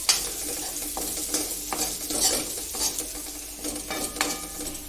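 Ginger-garlic paste and green onion sizzling in a hot pan while a spatula stirs and scrapes, steady crackling fry with intermittent metallic scraping close by, no talking.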